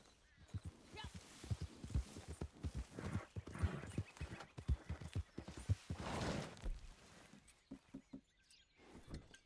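Horse hooves clip-clopping in a video game, a steady run of hoof beats close by with a brief whinny-like sound, fading toward the end under light game ambience.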